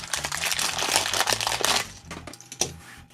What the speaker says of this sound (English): Yep, the rippable paper bag.